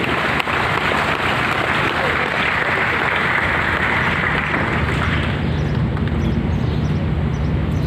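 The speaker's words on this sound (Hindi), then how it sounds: "जरा बच्चों अपने प्यारे प्यारे पेरेंट्स के लिए जोरदार तालियां बजा दीजिए" Children in a school gathering clap together for their parents, a steady, dense wash of applause running continuously and fairly loud throughout, with no break.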